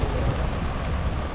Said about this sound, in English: Man, this rain's intense.